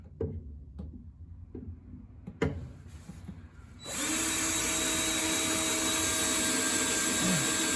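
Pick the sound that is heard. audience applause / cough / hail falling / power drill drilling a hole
power drill drilling a hole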